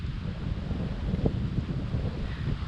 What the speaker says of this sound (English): It is very windy, so it might be kind of hard on the ears.